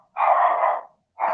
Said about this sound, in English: Whose dog is that? Your dog?